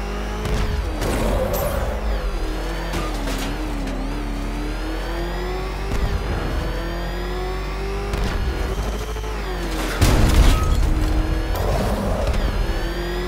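Batmobile tank engine in Batman Arkham Knight revving loudly and continuously, rising and falling in pitch with surging bursts of acceleration and a heavier roar near the end, with no talking.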